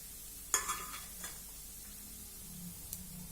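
Ridge gourd peels are dry-roasted and stirred in a pan; a sharp utensil clink against the pan with a quick rebound, then faint scraping and a soft tap, close and without speech.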